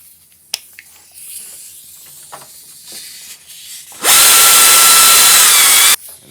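A power tool runs down the alternator mounting bolts on a 1997 Toyota Camry V6, a loud, steady whirring burst of about two seconds, close up, after quieter clinks and shop noise.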